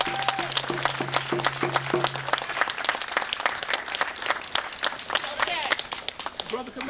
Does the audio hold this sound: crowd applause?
yes